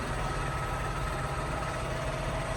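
A farm tractor engine idles close by in a steady, loud, low drone with no breaks.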